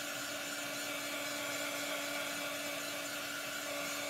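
A hair dryer blows on chalk paste spread over a pumpkin cutout, a constant, even whirring hum with a steady airy hiss and no break.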